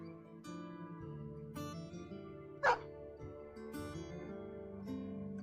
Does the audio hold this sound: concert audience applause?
no